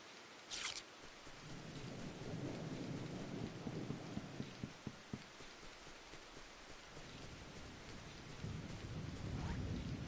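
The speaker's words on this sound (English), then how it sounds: "Thunder" Thunder rumbling through a boss-field battle in the .Hack video game, a long loud roll over steady rain with a sharp crack near the start and a burst of quick booms midway, continuing to the end.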